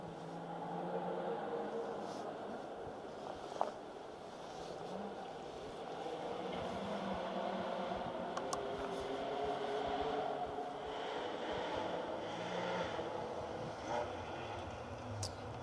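A 3-litre Porsche 911 rally car at speed on a forest rally stage, a steady broad engine roar holding fairly loud and continuous throughout with no talk, likely passing at moderate distance.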